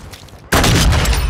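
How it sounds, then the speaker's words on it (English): A stun grenade detonates in Call of Duty: Modern Warfare II multiplayer, a sudden loud burst at mid-clip after a quiet stretch, followed by a sustained roaring, ringing wash of noise. "Throw your stun grenade."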